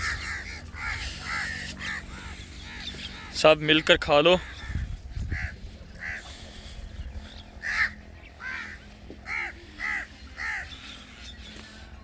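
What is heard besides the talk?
crows cawing while gathering for food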